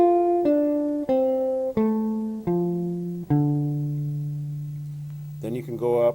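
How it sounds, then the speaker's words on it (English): Jazz guitar picks out a descending chord arpeggio, six clean plucked notes stepping down one after another and the last ringing long before a brief strum of a new chord at the end. "then you can slide up a half step and descend the 2nd chord's arpeggio,"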